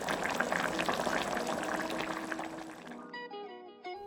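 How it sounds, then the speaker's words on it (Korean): Canned saury and tofu stew with onion and king oyster mushrooms bubbles steadily in a pot, a dense close simmering hiss that fades out near the end as tonal music takes over. "2분 정도 끓이고 불을 꺼줬다."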